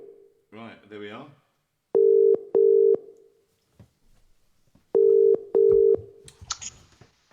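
A telephone line sounds two pairs of steady tones while a call is being placed from a live broadcast room, the paired beeps repeating after a short gap, with brief talk before them and a faint voice after.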